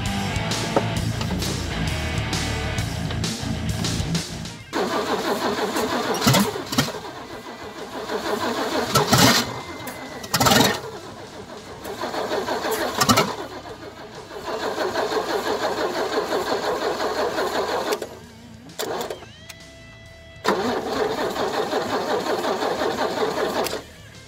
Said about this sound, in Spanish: Así que vamos a ver si arranca, que es para lo que vinieron ustedes a ver.